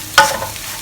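A single brief scrape of a utensil stirring homemade sambal chilli paste with dried shrimp and oil, close and short, followed by a faint soft tail.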